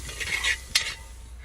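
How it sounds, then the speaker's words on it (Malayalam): Turmeric, chili and pepper powders stirred into chicken for beer-fried chicken, with steady scraping strokes and a faint sizzle from the pan, one sharper clink near the end, close and alone. "കുറച്ച് മഞ്ഞൾപ്പൊടി, കുറച്ച് മുളക് പൊടി, കുരുമുളക് പൊടിയാണ്, അതും ഇട്ടിട്ട് നന്നായിട്ടൊന്ന് ഇളക്കി കൊടുക്കാം."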